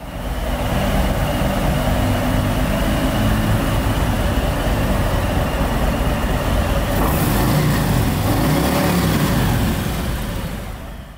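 A 2021 Harley-Davidson Softail Low Rider S motorcycle idles loudly and steadily up close, its engine drone continuous and rough for the whole stretch with no one speaking.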